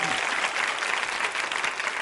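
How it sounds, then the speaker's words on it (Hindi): An audience at a women's institute quiz show claps for performers, a dense burst of applause held steady and fairly close for about two seconds with a faint voice underneath. "तालियां बजाइए इनके लिए।"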